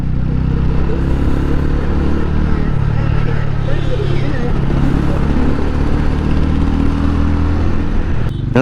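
TVS Ronin 225 motorcycle exhaust with a deep, bassy, steady drone running loud and close throughout, while someone talks over it.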